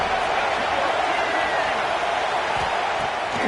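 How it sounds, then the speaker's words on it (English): Constant broadband roar of a stadium crowd in a college football video game, a steady dense wash of noise with no breaks or distinct cheers. "This crowd knows when to bring it."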